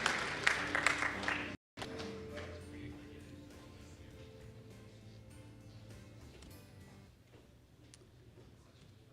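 Audience applause at a programming contest closing ceremony for Purdue University, bronze medalist, with a loud announcer voice at the start, then clapping that carries on and slowly fades under a steady hall ambience.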